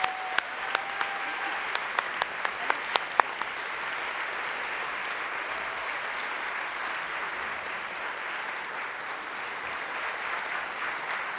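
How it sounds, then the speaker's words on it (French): A gala audience applauds a retiring organizer, with a few sharp individual claps at the start before a full, sustained round of crowd clapping takes over and continues evenly. "je pense que ça mérite une bonne main d'applaudissements"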